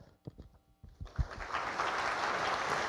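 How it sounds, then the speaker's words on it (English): An audience at a university event with Professor Ryoji Noyori bursts into warm applause for honored guests. A few scattered claps come first, then dense, steady clapping swells and holds to the end. "please join me to give all our honor guests a warm round of applause"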